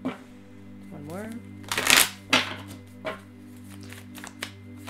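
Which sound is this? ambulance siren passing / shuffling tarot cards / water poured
shuffling tarot cards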